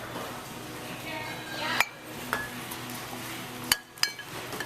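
Glass jars clink together in a grocery cart at a Trader Joe's, with four or five sharp knocks and chimes over a steady store background hum.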